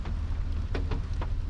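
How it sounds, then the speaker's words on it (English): Steady pouring rain hisses across a slushy parking lot during a messy winter storm, a constant near wash with a few louder splashes breaking through. "but it's pouring rain now."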